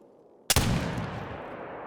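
A single loud Curman .50 inline muzzleloader rifle shot in the hunting game theHunter: Call of the Wild cracks sharply after a quiet moment, then a long rolling boom decays slowly.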